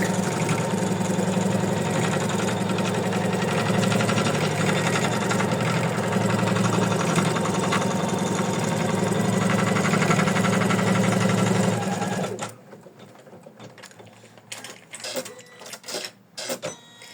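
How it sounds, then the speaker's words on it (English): An embroidery machine stitches over lace and attaches fabric for an in-the-hoop heart ornament, a loud steady mechanical whir and rapid needle chatter running continuously, then stopping abruptly, leaving faint clicks and handling noises. "It will stitch on top of laces and it will attach the fabric"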